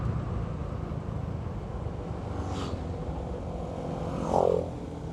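Motorcycles pass on a road near Tikub Lake, a steady engine drone rising to one louder pass toward the end, with no talk.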